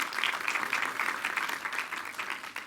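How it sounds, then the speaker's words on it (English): A church congregation claps in steady, brief applause, a dense patter of many hands at moderate distance with no voices over it. "Applause is great."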